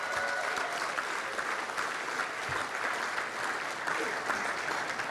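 A crowd claps for donors at a nonprofit's tenth anniversary fundraising event, steady dense applause sustained for several seconds.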